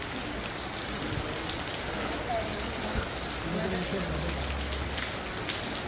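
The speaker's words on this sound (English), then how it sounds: "Lots and lots of rain." Heavy rain falling in Aguas Calientes, Peru, a dense steady hiss of drops on surfaces close by, constant throughout with faint background sounds mixed in.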